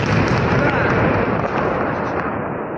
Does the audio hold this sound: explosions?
yes